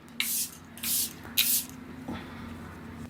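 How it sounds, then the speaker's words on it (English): Three quick hissing sprays from a spray bottle, close and fairly loud, followed by a faint click and quiet background hum. "And then one final spray."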